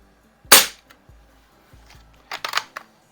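Barra model 900 pump air rifle fired after five pumps, one sharp loud crack followed by faint clicks, then a quick run of snappy mechanical clacks from working the action, close by with no talk.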